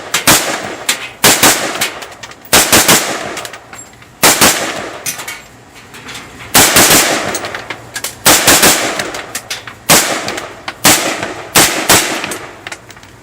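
A Daniel Defense MK18 Mod.1 pistol fires in loud, close bursts, each string of sharp cracks separated by short pauses, repeated about eight times with no talking.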